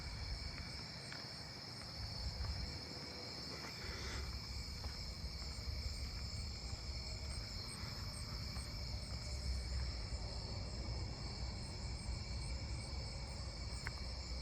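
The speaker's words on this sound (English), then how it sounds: "Oh, I hear another round tip conehead." A round-tipped conehead katydid calls at night among a continuous, high-pitched insect chorus, a steady faint buzzing drone over low background rumble with no talk.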